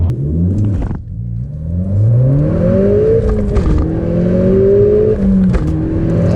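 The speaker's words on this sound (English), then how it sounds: "So we're just going to do a gentle launch and see if we can beat a stock S1's time" A stage 3 tuned Audi S1 accelerates hard from a gentle launch. The engine note climbs through several gears with distinct shift breaks, giving a loud, close, rising rumble and whir with no talking.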